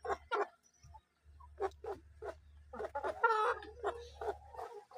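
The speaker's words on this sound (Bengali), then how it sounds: "নিউ আডাল মোরগ মুরগি" Colombian Light Brahma chickens on a farm cluck and call in repeated short bursts, close and fairly loud, over a steady low hum.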